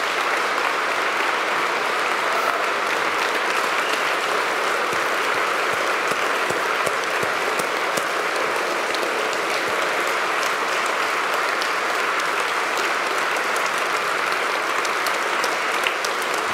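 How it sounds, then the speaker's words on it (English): Sustained applause from a men's conference audience fills the room, a dense, even wash of many hands clapping that continues steadily throughout. "So give them the round of applause that they deserve."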